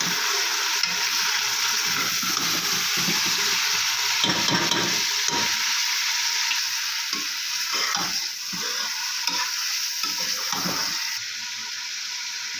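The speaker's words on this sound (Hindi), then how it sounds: "तो अब हम इसमें गोश्त शामिल कर देंगे और उसको फ्राई कर लेंगे" Beef sizzles and fries in a pan with golden fried onions, a steady close crackling hiss with intermittent stirring scrapes and clatters throughout, no talking.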